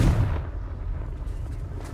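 A deep explosive boom from a Bombarda or Confringo spell blast in the video game Hogwarts Legacy hits hard at the start, then settles into a low rumbling tail, with no voices.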